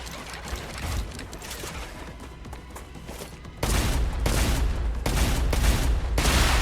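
Gunfire in the video game StarRupture, a dense, continuous roar of rapid shooting that grows louder and heavier partway through, with booming low thuds under the crackle.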